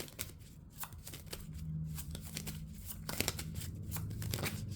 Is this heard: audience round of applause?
no